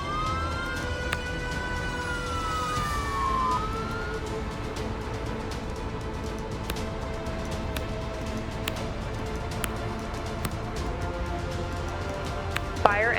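In the emergency-response video game Global Rescue, a fire engine's rising and falling siren wails briefly, then fades into a busy scene of clicks, engine hum and clatter, with a voice speaking over it.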